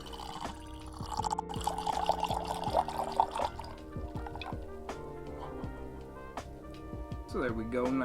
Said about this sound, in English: So there we go, nice slow pour going on.